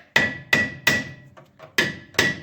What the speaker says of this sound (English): Adjusting this with a hammer a little bit